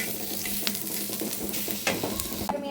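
Food frying and being stirred in a pan, likely coconut being roasted, a continuous loud sizzle with scraping stir strokes and scattered utensil knocks, cutting off abruptly at the end.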